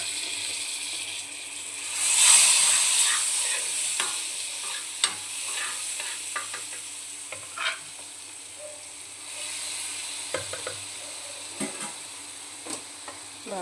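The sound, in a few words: prawns frying and being stirred in a pan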